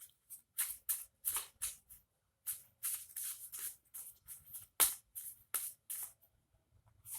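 A deck of tarot cards is shuffled in repeated crisp riffling bursts, close and fairly loud, with short silent gaps between them.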